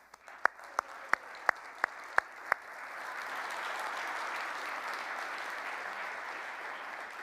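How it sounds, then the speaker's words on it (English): An audience at a township State of the Township address breaks into applause: a few sharp, separate claps ring out first, then a steady wash of clapping swells and holds at moderate volume to the end. "So let's give them a huge round of applause."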